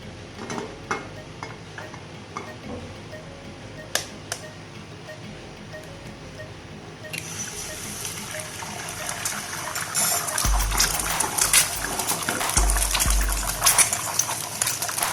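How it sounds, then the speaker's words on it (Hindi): An egg dropped into hot oil in a pan for a half-fry sets off a broad hissing sizzle that swells after a quieter start and keeps crackling steadily up close. "अब इसके अंदर एग डालेंगे।"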